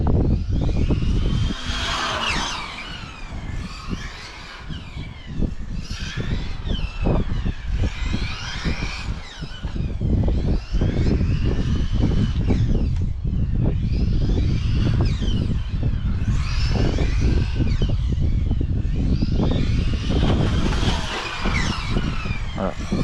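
A Hobao Hyper VT RC car engine screams and revs as the car drives around a track, its pitch rising and falling in repeated bursts, loud and close throughout, with someone speaking briefly over it.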